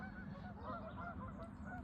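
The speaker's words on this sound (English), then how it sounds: "Geese are taking off again, another herd." Geese honk repeatedly in a dense, overlapping chorus as a flock takes off from Lake George, New York, the calls fairly faint and continuous with no talking.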